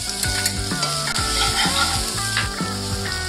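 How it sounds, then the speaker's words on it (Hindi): Capsicum, paneer and tomatoes sauté in a hot pan, with steady sizzling under repeated scraping strokes of a stirring spoon, close and continuous. "अब हमें इसमें जरा सा नमक डाल के इन्हें सौते करना है।"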